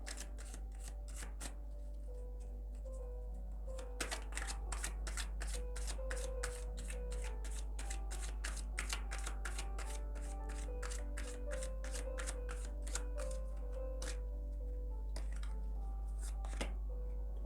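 A deck of tarot cards is handled and shuffled up close, with soft riffling runs and rapid flicking clicks that repeat through most of the stretch over a faint steady hum.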